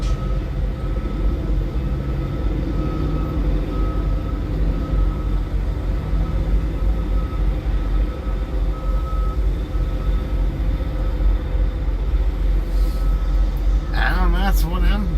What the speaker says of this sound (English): hear the horn down there?